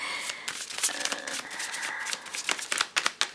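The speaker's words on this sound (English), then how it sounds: "These are too many cards. I'm gonna shuffle again." Tarot cards being shuffled up close, a run of soft papery slides and flicks ending in a few crisp taps; no voices.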